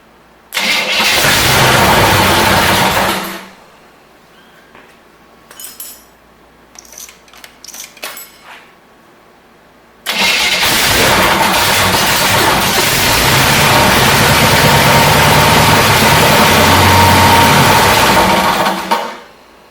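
Junkyard engine for a 1972 Corvette, test-run on a garage floor with a test carburetor: a loud start and roar that cuts off, a stretch of small clanks and handling noises, then a second start and sustained close running until it dies.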